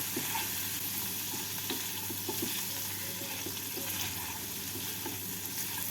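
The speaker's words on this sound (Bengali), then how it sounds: "এবার ভালো করে মিশিয়ে নেব" Prawns with ground pepper and sugar are stirred in a hot pan, giving a constant loud sizzle with repeated soft scraping strokes from the spoon.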